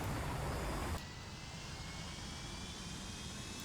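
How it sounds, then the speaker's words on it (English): Scout plane airborne in the Sea Power naval video game, its engine a steady loud broadband drone that drops slightly in level after the first second and then holds. "Scout plane is airborne."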